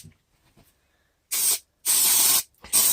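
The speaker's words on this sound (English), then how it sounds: "We're just going to spray the sides of the polyester" Spray adhesive hissing from a can onto the sides of polyester and foam for corner bass traps, three loud close bursts separated by short pauses, after quiet handling noises.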